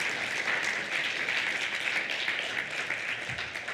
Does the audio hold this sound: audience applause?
yes